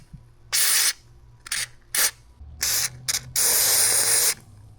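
Lubricant sprayed onto a Toyota car door in several short, close hissing bursts, ending with one longer continuous spray, with no talking.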